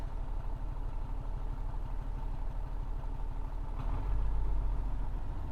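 An MTZ-1221 diesel tractor engine idles steadily with a low, throbbing rumble, growing slightly heavier near the end.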